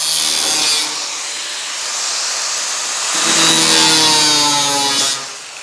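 Sheet metal being trimmed for a trunk lid on a 1940 Ford Coupe-inspired build, a loud, close, continuous whining cut with a pitch that rises and steadies, then stops abruptly.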